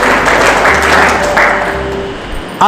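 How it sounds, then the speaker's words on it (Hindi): Church congregation clapping together at a Hindi Bible quiz gathering, a dense steady round of applause that stays full for over two seconds before thinning out, with faint voices mixed underneath. "ताली बजाकर प्रभु को महिमा दो"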